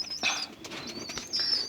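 Pigeon wings flap in short, close bursts, a quick flutter followed by a second one, with faint chirps in between.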